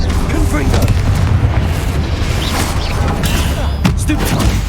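Explosive booms and crackling blasts from the Confringo spell in Hogwarts Legacy on PS5, dense and loud throughout with game combat effects, a shouted spell call mixed in.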